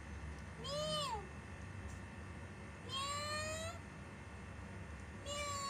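Newborn kittens give three separate high, thin meows, each rising and then falling, heard close against a steady low background hum with no talking.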